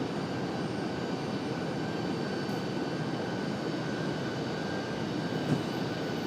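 A jet airliner rolls for takeoff at Raleigh-Durham airport, a steady broad engine roar holding at even loudness throughout with a faint high whine riding on top, no voices over it.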